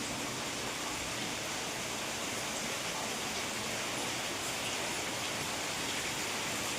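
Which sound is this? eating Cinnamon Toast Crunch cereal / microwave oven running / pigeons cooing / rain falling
rain falling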